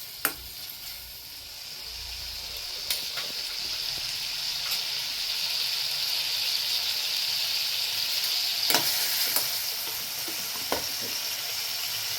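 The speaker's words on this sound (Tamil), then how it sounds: "தக்காளியை லேசாக வசக்கிக்கிடணும்" Tomatoes sauté in a pan for a brinjal kootu, a steady close sizzle that runs throughout, broken now and then by sharp clicks of a utensil stirring against the pan.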